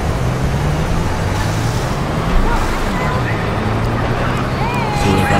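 A car drives through the streets in GTA 5, a steady engine drone with shifting pitch and road rush, constant and close, while someone talks over it.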